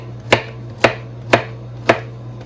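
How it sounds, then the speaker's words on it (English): Knife chopping zucchini on a cutting board during veggie prep, four evenly spaced crisp thunks about half a second apart over a steady low hum, close and clear with no talking. "So we're just going to chop these"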